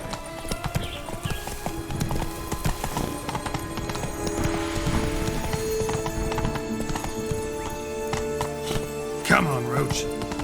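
Roach, the horse in The Witcher 3, gallops with steady hoof clip-clops under ongoing game sound, then gives a loud whinny near the end as it slows.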